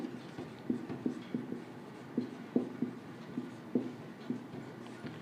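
Marker or chalk scratching across a classroom board in a steady series of short strokes, fairly close and alone with no talking.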